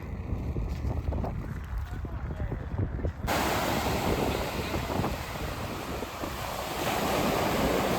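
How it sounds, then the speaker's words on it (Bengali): Rough surf of the Bay of Bengal pounds a Chennai city beach, a loud, continuous roar of waves mixed with wind buffeting the microphone, with a voice speaking over it. "উত্তাল বঙ্গোপসাগর।"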